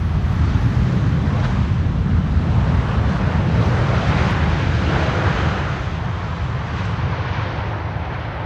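An airliner arrives from Atlanta, Georgia, at Amsterdam Schiphol on a windy day. A loud, continuous engine roar is mixed with heavy wind buffeting and eases slightly toward the end.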